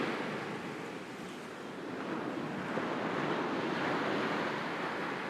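Steady sea surf rolls and washes continuously, a broad, soft roar of waves that swells slightly toward the end, with no voices over it.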